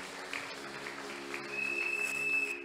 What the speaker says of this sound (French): Nous acclamons très fort pour la parole de Dieu